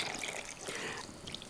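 Water poured into coarse salted rice powder while preparing prawn puttu, a steady close trickle lasting the whole moment with no talking over it.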